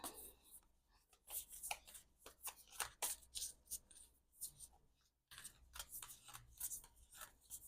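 A new deck of oracle cards is shuffled by hand, producing repeated soft riffling and sliding card sounds in irregular bursts, close and fairly quiet, with brief pauses.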